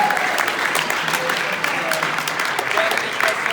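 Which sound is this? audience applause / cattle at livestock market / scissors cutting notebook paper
audience applause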